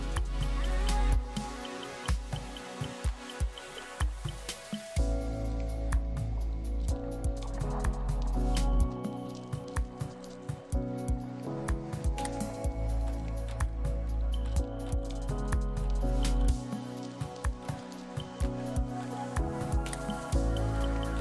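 Kayak paddles dip and pull through the water on the New River, rhythmic splashes and drips with gurgling liquid sounds, close by and fairly loud, with a low rumble underneath and no talk.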